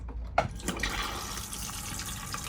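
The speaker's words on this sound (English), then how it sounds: "this button at the back here, which is the one that pumps the flush fluid around" A motorhome cassette toilet's electric flush pump circulates fresh water around the bowl, giving a steady close-up rush of running water with a brief clunk near the start.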